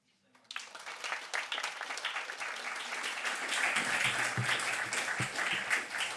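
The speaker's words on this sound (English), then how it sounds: "another round of applause for both of our speakers today, Clifton and Mariana" An audience claps for two speakers at the close of an ecosocialism conference session; dense, steady applause starts suddenly after a brief silence and keeps going at full strength to the end.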